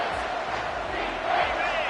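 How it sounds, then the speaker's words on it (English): A home football crowd roars and cheers loudly on a third down, a dense continuous stadium din swelling slightly near the end, with a commentator's voice mixed in. "this crowd will pull out a vocal cord to help this defense"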